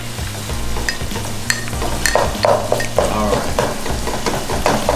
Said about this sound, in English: So you just stir it together to make sure it's nice and uniform.